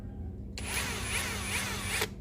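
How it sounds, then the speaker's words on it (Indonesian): A Lucid LX70 cordless drill with its stock bit bores into ceramic tile in pulse mode, a loud, close whirring grind that starts abruptly, holds steady with a faint pulsing texture, and cuts off after about a second and a half. "Kita coba ngebor keramik."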